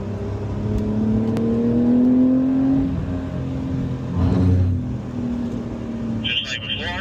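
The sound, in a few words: Porsche car driving around a track corner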